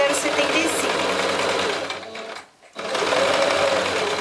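A sewing machine stitching fabric strips together, running in a steady loud buzzing whir, briefly stopping for a moment near the end before starting up again.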